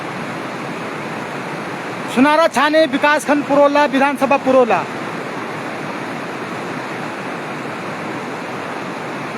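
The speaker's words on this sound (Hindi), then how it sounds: "ये नदी है" A river rushing steadily past stones, a constant loud broadband roar that continues unbroken while someone speaks briefly near the microphone.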